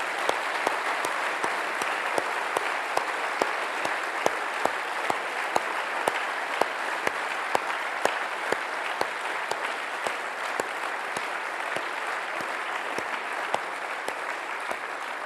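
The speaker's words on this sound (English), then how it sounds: "give you, as a present coming from our heart, a big round of applause" Sustained audience applause at a formal event honoring the Chair of the Federal Reserve, a steady roomful of clapping with distinct rhythmic claps standing out, lasting the whole stretch without talk.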